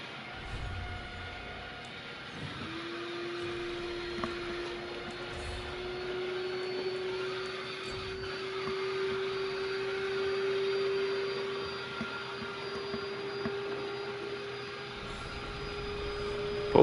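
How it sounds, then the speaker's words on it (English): A vacuum cleaner drones steadily in the background throughout, a constant motor hum with a sustained whine that starts a couple of seconds in and holds, fairly faint beneath game sound. "there's a vacuum"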